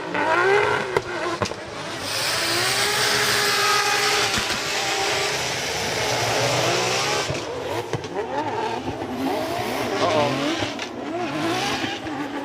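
Formula Drift Japan cars drift past close by, a BMW M2 Evolution among them alongside a V8. Engines roar and rev hard with tires squealing and skidding. Race commentary talks over it.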